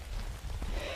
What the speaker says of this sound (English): Freezing rain is falling now,